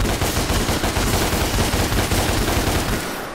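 Rapid, continuous gunfire from the action video game DmC rattles loud and dense for about three seconds, then cuts off abruptly, with no voices over it.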